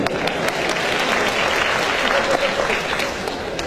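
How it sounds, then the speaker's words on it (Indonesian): Dense, continuous applause from a large audience at a talk, a steady wash of many hands clapping at full volume throughout. "Dan tepuk tangan buat wanita-wanita Indonesia."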